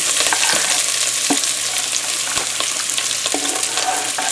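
Onion and celery sizzle steadily in hot vegetable oil, a dense crackling hiss with occasional clinks of a utensil stirring the pan.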